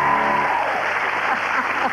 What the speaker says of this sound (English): What a final round of applause for the chef.